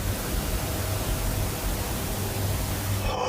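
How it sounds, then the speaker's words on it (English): A spirit box radio used in a ghost-hunting session gives off a steady wash of hissing static, even and moderately loud throughout, with no voice over it. "They continue the conversation using the spirit box and receive a strange audio response"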